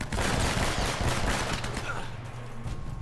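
A loud, dense burst of rapid gunfire fills a firefight in Uncharted: Drake's Fortune, shots overlapping continuously at close range and easing slightly toward the end, with shouted voices mixed underneath.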